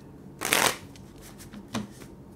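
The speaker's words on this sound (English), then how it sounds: "Three more shuffles." Tarot cards being shuffled close up, a quick riffle burst followed by softer shuffling sounds and a second short riffle.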